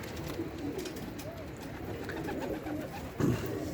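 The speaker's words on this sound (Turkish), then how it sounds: "Kuş geri geldi." Soft pigeon cooing repeats low in the mix against a steady outdoor background, with a brief louder rustle near the end.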